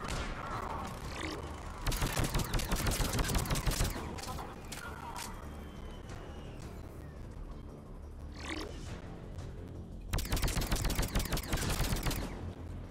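Bursts of rapid automatic sniper rifle fire in the shooter game Mass Effect 3, two loud sustained volleys with quieter game ambience and scattered effects between them.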